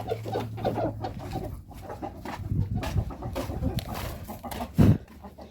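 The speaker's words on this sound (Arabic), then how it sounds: "ووريكم الطيور اللي انا هعلفها، البط والفراخ" A flock of farm chickens and ducks clucks and calls continuously at close range, busy overlapping poultry chatter with a louder squawk near the end.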